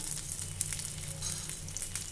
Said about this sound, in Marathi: हे पण छान खरपूस भाजून घेऊया